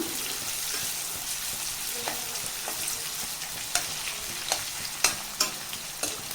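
Onions sizzle steadily in a hot pan nearby, with a few sharp clacks of a spoon stirring toward the end.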